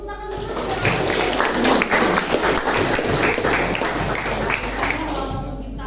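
Applause from a classroom audience, a steady wash of hand claps lasting several seconds at moderate loudness, with some voices mixed in beneath it.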